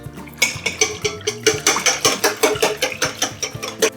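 Wheat and rye flour being stirred into yeast pancake batter, a rapid, rhythmic series of close clinks and scrapes of a utensil against the bowl, about four strokes a second, with no talking.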